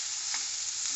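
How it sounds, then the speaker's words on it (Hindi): Vegetables, amba haldi sabzi, are stirred and fried in oil over a low flame, giving a steady close hiss. A couple of soft scraping stir strokes rise briefly through it, with no one talking. "इसको मैं चला लूंगी अच्छे से, और तेल तेल में भून लूंगी इसको"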